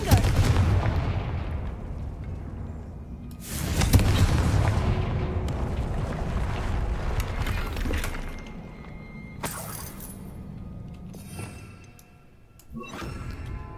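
Confringo fire-spell explosions in the Hogwarts Legacy video game during a troll fight, with loud booming blasts at the start and around four seconds that roll into a sustained roar of battle, plus a few later impacts.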